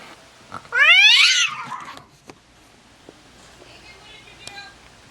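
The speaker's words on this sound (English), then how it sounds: "It's Babette noticing there's a cat in here." A cat gives one loud, drawn-out rising meow close by indoors, followed by quieter room sounds and faint voices.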